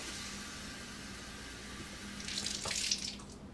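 Water poured into a blender holding soaked almonds, a steady faint trickle that swells into a louder splashing pour toward the end.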